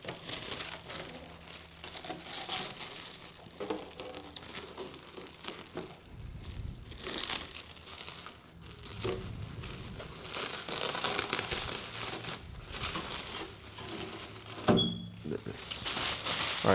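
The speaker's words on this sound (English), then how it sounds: "Let's get the paper off." Paper wrapping torn and crinkled off a boxed CEN F450 RC truck, steady close rustling and crumpling with sharper tearing bursts throughout.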